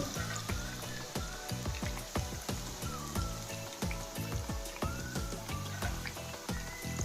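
Andhra-style onion pakoda batter crackles in hot oil, heard close with a continuous bubbling sizzle punctuated by frequent sharp pops, loud and unbroken, no voices.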